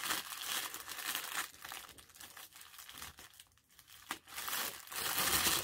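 A wrapped advent calendar package being opened, with continuous paper crinkling and tearing close to the mic for several seconds.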